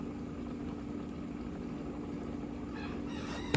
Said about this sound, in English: It's non-stop crowing.